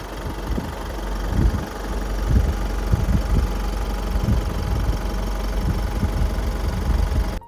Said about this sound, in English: And now let us look and listen to the engine.